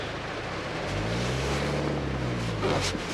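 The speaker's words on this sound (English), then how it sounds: "Engine start. Give it a couple of revs." A diesel car engine with glow plugs starts from neutral and gets a couple of revs, a loud close rumble that rises and falls in pitch over a few seconds.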